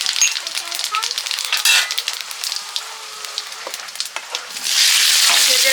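Dry red chilies, panch phoron (five-spice mix) and bay leaf crackle and sizzle in hot oil in a kadai for khichuri, a bright steady frying hiss with scattered pops that swells louder near the end.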